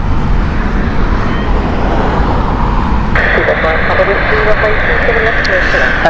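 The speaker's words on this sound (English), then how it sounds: "that was a brand new Airbus that was from Aer Lingus" An Aer Lingus Airbus at Heathrow Airport roars past with a loud, broad engine rumble that holds steady throughout, while someone talks over it.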